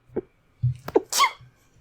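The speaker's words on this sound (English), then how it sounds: "I told you I was gonna sneeze." A single sharp sneeze bursts out after a couple of quick indrawn breaths, close and loud, followed by a soft exhale.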